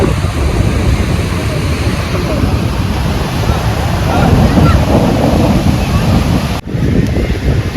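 Surf rolls onto the shore at Umm Al Quwain beach in the UAE, with a steady wash of waves under heavy gusting wind buffeting the microphone and faint voices in the mix.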